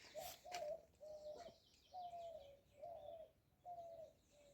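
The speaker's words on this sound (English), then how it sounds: "So I just went silent for you to listen to the birds." Soft, repeated cooing calls from a dove or pigeon at an even pace, with a few brief chirps from other birds early on.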